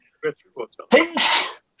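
A single loud, sharp sneeze bursts out after a few quiet murmured syllables, close to the listener.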